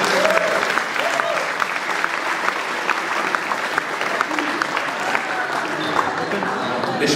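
A crowd at a Sokol ball in Prague's Vršovice applauds warmly, a continuous, fairly loud round of clapping with a few sharper claps and faint voices underneath.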